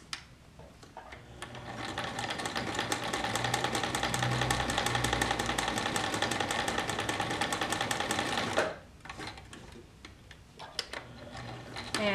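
A sewing machine stitches a quarter-inch seam on a fabric face mask, its rapid needle ticking running steadily and loud for most of the stretch before stopping abruptly, followed by scattered handling clicks.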